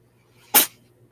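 A single sharp, burst-like sneeze from a cat, short and fairly loud against a quiet background with a low steady hum.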